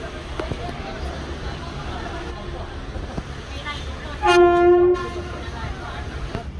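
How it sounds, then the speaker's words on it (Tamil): Garudatri Express departing Chennai Central with a steady rumble of rolling carriages and one loud train horn blast of about half a second midway. "நம்ம ட்ரெயின்"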